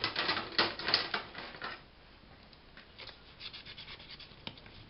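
A bone folder rubs and creases paper up close, with brisk scraping strokes for the first couple of seconds that then fade to faint, light rubbing.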